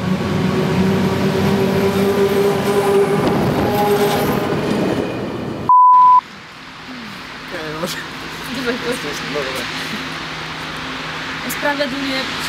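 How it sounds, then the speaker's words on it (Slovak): A train passing very close, a loud rumbling roar with rattling wagons and squealing wheels, cut by a sharp tone midway, then fading into quieter rolling clatter with people talking over it. "keď ide takto blízko vlak"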